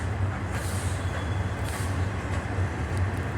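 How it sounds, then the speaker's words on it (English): A passing train gives off a steady, broad low rumble with faint high squeals, continuous and moderately close, with no talking over it. "that frickin' train messed me up"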